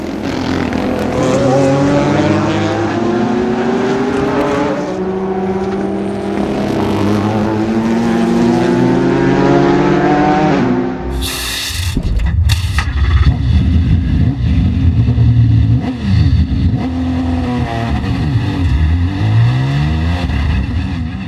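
A Ford GT race car accelerates hard out of the last chicane at Le Mans, its engine climbing through rising gears with a shift break midway, then roaring on loudly and close from the cockpit.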